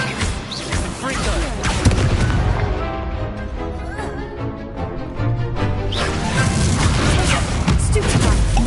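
Spell blasts and explosions from the video game Hogwarts Legacy, dense and continuous booming impacts and bursts throughout, with a voice calling out over the combat.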